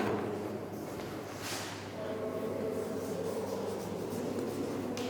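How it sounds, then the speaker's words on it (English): A pen or marker scratches out names by hand on a board or page in a classroom lesson, soft intermittent strokes close by against a quiet background. "Let me write the names."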